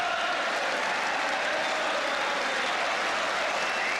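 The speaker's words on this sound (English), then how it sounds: "More applause for Charlton." A football stadium crowd at Chelsea against Manchester United applauds Charlton, a dense, steady roar of clapping that fills the whole moment without any talk.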